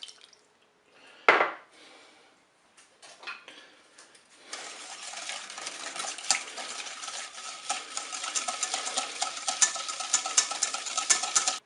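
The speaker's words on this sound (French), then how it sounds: "je vais commencer par battre le sucre avec le beurre" Butter and sugar are beaten together in a bowl for a cherry cake, starting with a sharp clink and scattered knocks, then a continuous scraping, whisking rattle that grows busier and louder toward the end.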